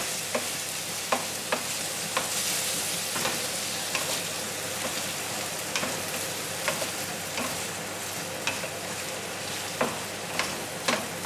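Paella is stirred in a pan over a steady frying hiss, with a spoon scraping and knocking against the metal at regular intervals, close and moderately loud, with no talking.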